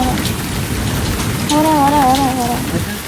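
Heavy rain pours down at the Kongo River near the ocean on the Kenyan coast, a dense, loud, steady hiss of drops, with a brief voice rising over the downpour midway.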